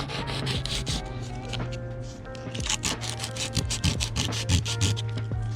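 Hand sanding a ding repair area on a surfboard, close rhythmic scratchy strokes in quick repeated bursts over a steady low hum.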